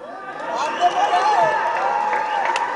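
An audience at the Onbathula Guru film audio launch bursts into cheering and clapping, a loud, busy crowd roar with shouts and whistles sustained through the clip.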